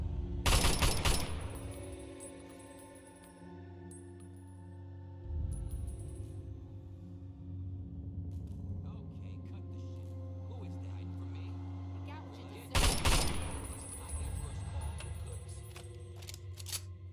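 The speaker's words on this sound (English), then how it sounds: "The assault rifle." Assault rifle fire in Fallout 3 at the Arlington Library: a sharp burst of shots at the start, a steady mechanical drone through the middle, then another loud burst near the end.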